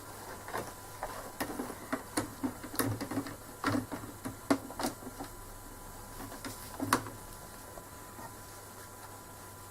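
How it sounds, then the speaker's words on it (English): Close, quiet rapid ticking and clicking from an embroidery machine stitching the next thread colour on a tissue holder, in short uneven bursts that thin out toward the end. "And stitch the next thread colour."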